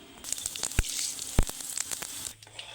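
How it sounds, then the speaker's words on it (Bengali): Fenugreek seeds and black cumin sizzle in hot oil in a pan, a steady close crackle with a few sharp pops and scrapes, no one speaking. "মেথি কালো জিরাটাকে খুব ভালোভাবে ভাজা ভাজা করে নিতে হবে তেলের মধ্যে"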